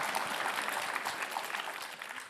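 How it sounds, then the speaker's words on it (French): A press-conference audience at the Cannes Film Festival gives brief, fairly faint applause, a short spread of many hands clapping that tapers off toward the end. "Ah là, vous applaudissez."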